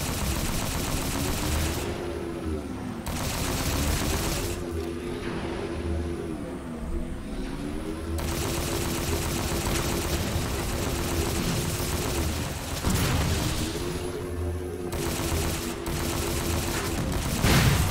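Gunfire in the video game Halo 4 rattles in long, continuous bursts over a droning engine-like hum, with brief pauses between volleys.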